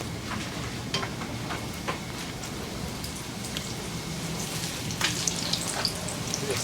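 Food fries in ghee in a pan on a stovetop, a steady close crackling hiss with scattered sharp pops and spits throughout, no talk.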